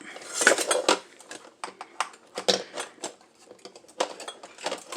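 Dishes and cutlery clink and clatter while being washed by hand in a kitchen sink, irregular close knocks and rattles with brief pauses between.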